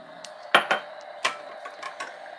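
Spoon clinking against a dish while measuring vanilla extract: a few bright, short metallic taps, two close together then spaced lighter clinks, near and clear in a quiet room.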